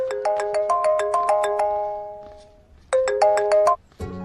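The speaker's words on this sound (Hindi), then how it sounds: "भैया, आपको किसी का फोन आ रहा है।" A mobile phone ringtone plays loud and close: a bright repeating electronic melody of quick chiming notes, a short pause, then the tune starting again before cutting off.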